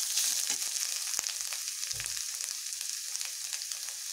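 Bitter gourd sizzling steadily as it sautés in a hot pan, a continuous close frying hiss with a few soft stirring scrapes and no talk.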